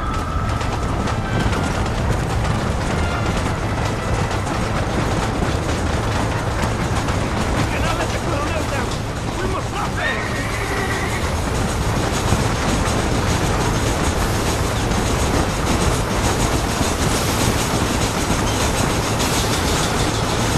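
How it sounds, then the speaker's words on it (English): A train in Red Dead Redemption rumbles along the rails with steady clattering and a constant mechanical roar, while faint voices speak beneath it. "There is a train! We must escort it to Casa Madrugada!"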